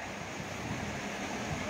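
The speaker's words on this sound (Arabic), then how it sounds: "ضرب بحر هذا، ماشي ضرب، ماشي فيضان هذا، ضرب البحر" Steady, loud rush of surging sea waves breaking during a flood in Casablanca, a continuous roar with wind-like noise and no voices.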